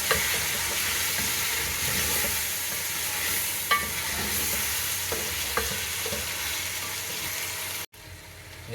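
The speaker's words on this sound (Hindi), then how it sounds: "अपनी जिंजर गार्लिक की पेस्ट ऐड कर देंगे। अब 2 से 3 मिनट इसको भुनेंगे।" Ginger garlic paste frying in a pan over medium-low heat, a steady, dense sizzle with occasional stirring scrapes, close and continuous, then cutting off abruptly near the end.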